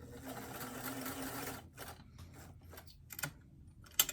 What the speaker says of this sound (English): I'm just going to start with a really small zigzag stitch, a few stitches in so that I can back stitch to reinforce at the top